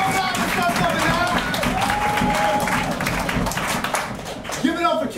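Clapping and cheering from an open mic night crowd at a bookshop rise and continue under voices and chatter, with a loud burst near the end.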